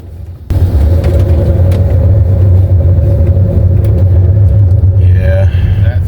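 A loud, steady low rumble and grinding drone from worn brakes and rotors on a moving car, continuous for several seconds with a faint high whine near the end.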